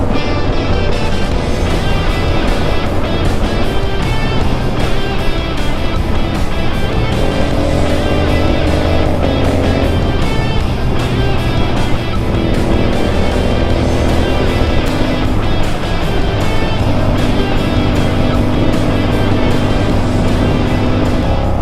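A GT superbike engine roaring steadily during a ride, loud and continuous with a sustained droning exhaust note and no voices.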